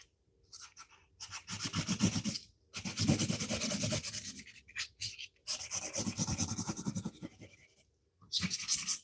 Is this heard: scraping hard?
yes